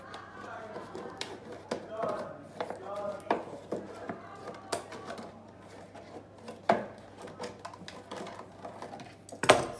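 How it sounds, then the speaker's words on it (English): Scissors snip the end of a milk carton and then cut all the way round it, giving irregular crisp clicks and crunches up close, with a faint voice murmuring now and then. "I'm going to snip some of the end, and then I'm going to cut all the way round"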